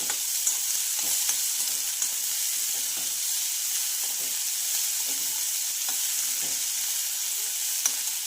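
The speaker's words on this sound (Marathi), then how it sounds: "इथे मी कांदा घालून घेतलेला आहे आणि हा सुद्धा आपल्याला गोल्डन रंगावर फ्राय करायचा आहे" Sliced onion fries toward golden in a pan for chana usal, a constant bright sizzle broken by soft, repeated scraping stirs of a spoon, close and without speech.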